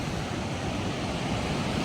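Ocean surf rolls in steadily at Imperial Beach in San Diego, a continuous broad wash of breaking waves with some wind noise and no voices.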